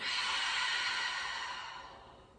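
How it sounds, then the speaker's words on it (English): A loud, breathy exhale during a yoga session, a single long rush of air that is strong at first and slowly fades, with no talking over it. "Don't be afraid to be loud with the breath"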